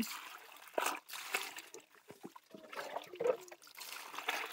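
Well water splashes and trickles during hand laundry in the Philippine countryside, with intermittent pours and sloshes at close range and quiet gaps between them.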